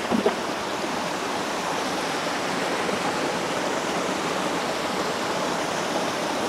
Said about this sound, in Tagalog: Ito yung pinaka-falls niya.